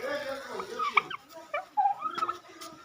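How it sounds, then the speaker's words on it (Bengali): Ducks on a farm pond give scattered, fairly faint calls in short bursts, with quiet gaps between them and nothing louder nearby. "ওই যে হাঁস, অনেক হাঁস।"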